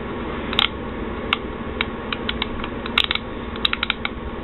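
Clicking ratchet of a Nebo 13-in-1 multi screwdriver, an irregular run of small sharp ticks of varying strength over a steady low background hum, close by.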